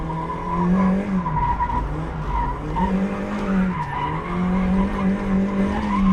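Mazda MX-5 Miata drifting on track with repeated clutch kicks, engine droning loud and steady while tires skid and squeal in long sustained bursts, no talk.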